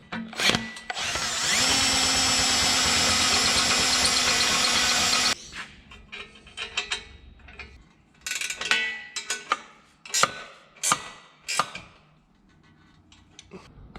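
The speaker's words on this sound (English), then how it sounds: "let's get this hole drilled" A power drill bores a hole through a car's exhaust pipe with a sustained, loud whine for several seconds. Afterward it drops to clanks, taps and shuffling metal handling.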